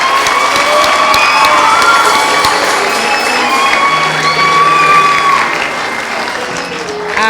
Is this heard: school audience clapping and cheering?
yes